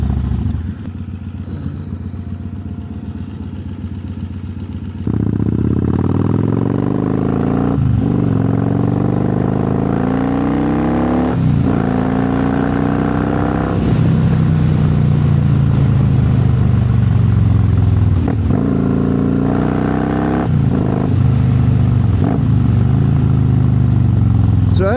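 An Excelsior Henderson Super X motorcycle is ridden hard. Its engine drones loudly and steadily, with revs repeatedly climbing and dropping, over rushing wind and road clatter.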